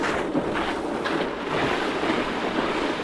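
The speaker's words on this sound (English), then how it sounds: "the wind doesn't seem to be very gusty today" Steady wind blowing across a frozen lake during winter ice fishing, a broad rushing roar buffeting the microphone with slight gusts, no voices.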